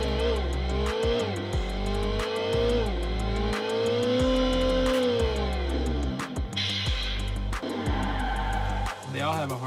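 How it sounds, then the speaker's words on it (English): Hobby RC sound kit playing a simulated diesel truck engine, a loud droning rumble that revs up and down in swells, with sharp hissing bursts like an air brake release; no speech is present. "So I think 5 and above is mostly diesel sounds."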